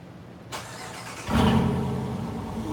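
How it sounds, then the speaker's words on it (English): Car engine cold-starting: a brief starter crank, then the engine catches and settles into a loud, rough idle that carries on steadily, close by and with no talk over it. "Let's get a cold start for the squad."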